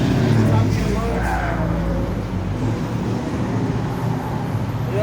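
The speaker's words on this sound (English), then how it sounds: "You know, loud ass car." A loud car drives past on a street, its engine roar rising and fading over steady road noise, with someone talking over it.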